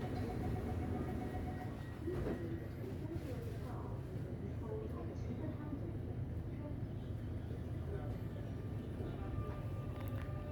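A Singapore MRT North East Line train closes its doors and pulls away, heard as a continuous low rumble and whir from inside the carriage with brief clunks early on, and voices mixed in.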